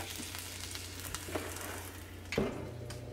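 Italian sausage patties with peppers and onions sizzling on a Ninja Foodi Grill, a soft continuous fry with a few small pops and clinks, fairly quiet, no voices.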